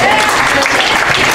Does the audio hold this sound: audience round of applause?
yes